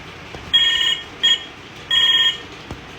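A phone rings in a home with a tonal electronic ringtone, sounding in three bursts of differing length over steady background noise.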